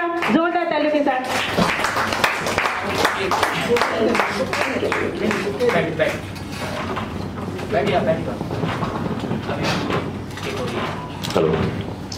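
Audience applause welcoming Meenu Mathur to the stage at a book launch event, dense and sustained for several seconds after a brief announcement, with a voice speaking over the clapping.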